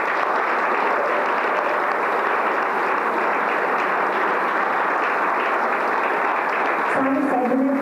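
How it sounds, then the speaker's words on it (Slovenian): Audience applause at a sports awards ceremony, a dense, even roar of clapping from a large crowd that stays steady throughout before a voice begins speaking at the very end. "Pred natanko enim mesecem je dopolnil 80 športnih let, za kar si zasluži res velik aplavz."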